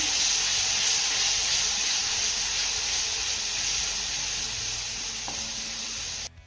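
A ground spice paste frying in hot oil in a home kitchen, giving a loud, steady sizzle and hiss that runs unbroken before cutting off abruptly at the end.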